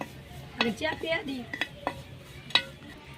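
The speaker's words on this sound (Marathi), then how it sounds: "आता आपण टाकू चिकन शिजायला" Chicken pieces drop into a hot pan of roasted masala for chicken curry, with a few sharp metallic clanks and stirring scrapes up close and only a faint sizzle, no voices.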